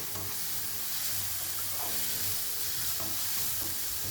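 Kothu idiyappam with green chillies being sautéed and stirred in a pan, a dense steady sizzle and hiss with soft repeated stirring scrapes, close and even throughout, no speech.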